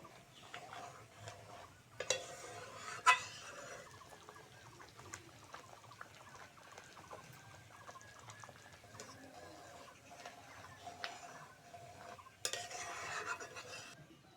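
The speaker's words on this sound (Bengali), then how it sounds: "অনবরত নাড়তে হবে, নাহলে নিচে লেগে ধরবে।" A spoon stirs carrot and rice payesh in a pot, producing soft scraping and occasional metallic knocks against the pot at a low level, with a couple of louder clatters and faint background noise.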